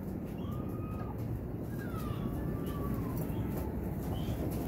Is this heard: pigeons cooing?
yes